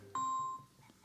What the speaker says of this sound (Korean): 이 시간에 전화를 주시는 분이 누굴까?